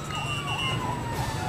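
Fire truck siren wailing at a residential fire that has spread across many houses, a steady rising-and-falling electronic wail close by over a dense roar of engines and crowd noise, with no voices on top.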